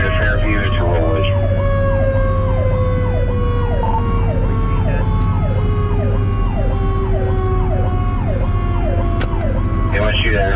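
A Federal Q mechanical siren screams on the Rescue 50 emergency vehicle, its pitch sliding slowly downward, while a rapid electronic yelp siren cycles steadily over it throughout, all loud and close.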